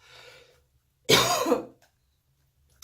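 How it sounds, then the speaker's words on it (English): A single harsh cough, close and fairly loud, in an otherwise quiet room with faint background noise before it. "sorry, I had to cough."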